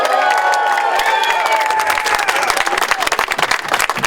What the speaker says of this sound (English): let's give a round of applause for Mayor London Breed.